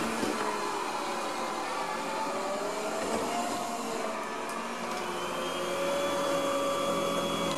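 A Yeedi Vac Max robot vacuum cleaner runs close by as it collects crumbs and debris with its side brush, a steady high-pitched whirring drone with faint shifting tones and no voices.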